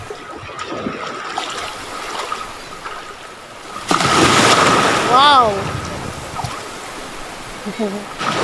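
Sea waves at a beach resort in Morong, Bataan wash and rush steadily, with a bigger wave surging loudly midway, while nearby voices chatter and exclaim.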